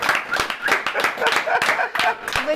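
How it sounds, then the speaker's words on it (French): Guests at a French podcast applaud themselves, a steady patter of clapping from a small group with overlapping voices and laughter throughout. "Donc merci à vous tous, on peut s'applaudir."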